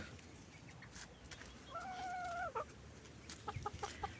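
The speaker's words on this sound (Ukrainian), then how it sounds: "А тут курочка заховалася і буде нести яйце отут з краю в помідорах" A hen hiding among tomato plants in a garden gives a drawn-out call followed by a few quick soft clucks, fairly faint over a low background hiss.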